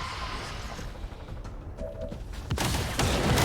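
Gunfire from a video game shot at an enemy queen: a dense burst of crackling shots fills the second half, loud and close over a steady game background.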